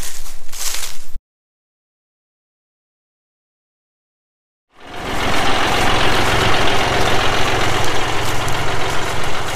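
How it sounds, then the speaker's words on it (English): A John Deere 5055E tractor engine running outdoors, a loud, steady idling rumble with a knocking diesel pulse. A short burst of noise comes first, then a gap of silence, and the engine then holds on continuously. "I don't know if you can hear me over the tractor."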